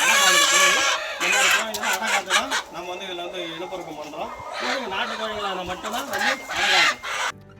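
Country chickens on a farm cluck repeatedly and loudly up close in overlapping bursts, with the calls dominating throughout.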